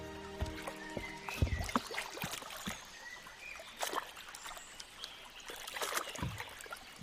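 A small boat carrying a bear glides across calm water, with quiet lapping, light trickles and scattered soft splashes against a hushed outdoor background.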